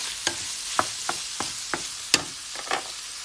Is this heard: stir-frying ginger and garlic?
yes